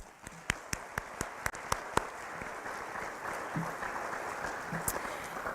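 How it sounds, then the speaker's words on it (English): At an honor society induction ceremony, a few sharp individual claps ring out one by one before a modest, fairly quiet round of audience applause fills the room. "Join me in a round of applause really quick."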